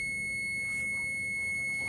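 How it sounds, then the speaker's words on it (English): A carbon monoxide alarm on an unsafe gas furnace emits a steady high-pitched electronic tone, continuous and fairly loud throughout, with no talk over it. "Yeah, getting the alarm."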